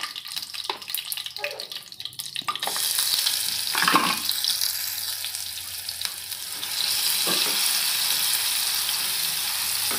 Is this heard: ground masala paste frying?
yes